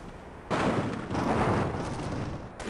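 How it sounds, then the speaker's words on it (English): Scripted explosion in the video game Half-Life: a loud, sustained roaring blast starts abruptly, then swells again into a second rumbling burst, with no voices over it. "What is this explosion supposed to happen?"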